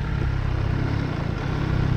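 Engine of an MV Agusta Brutale 800 motorcycle runs steadily, a dense, close, loud drone with a fast pulsing beat and no real change in pitch over a couple of seconds.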